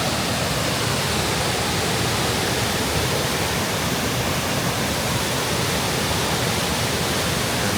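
River in an abandoned Appalachian coal mining town in Kentucky, near a power plant, rushing in a steady, loud, broadband wash of flowing water with no breaks.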